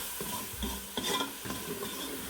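Lahori chickpeas being stirred and fried on a high flame, close spoon scrapes against the pan over a soft continuous sizzle, with no voices.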